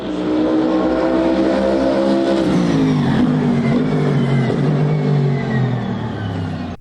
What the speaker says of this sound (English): It will be powered by a twin-turbo V8